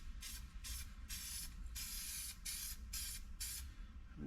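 Spray paint can putting a light coat on an old door panel: seven quick hissing bursts of varying length in an uneven rhythm, close but faint, with a low background rumble and no talk.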